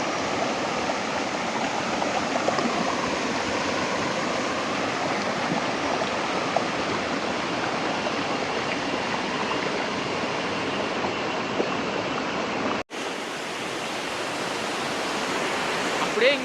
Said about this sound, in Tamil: அப்படியே இங்கே தண்ணி விழுந்து அது வழியாக கீழே திரும்ப வாட்டர் ஃபால்ஸ் விழுது.